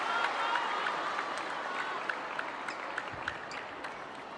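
Crowd applause at a table tennis match at the ITTF Mixed Team World Cup 2024, a sustained wash of clapping from a large arena audience that slowly fades over a few seconds.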